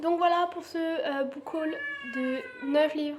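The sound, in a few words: cat meowing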